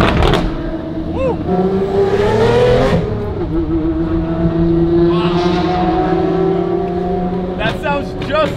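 An Apollo IE supercar engine revs and holds a steady high drone, with a sharp throttle blip near the start and another near the end, loud and close.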